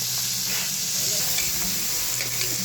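Squash sizzles and crackles in a hot pan with ground beef and golden garlic, a steady close frying hiss broken by soft stirring scrapes.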